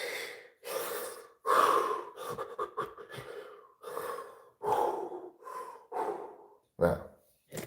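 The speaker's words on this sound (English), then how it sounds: "I'm going to do a little hyperventilating to make sure I oxygenate to get ahead of this whole yawning thing." A person hyperventilates on purpose, taking a run of fast, deep, loud breaths close to the mic, with gasping inhales and forceful exhales in an uneven rhythm and no talking.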